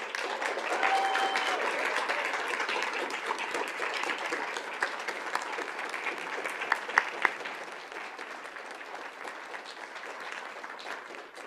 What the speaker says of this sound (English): Students, would you stand so we could give you a big round of applause?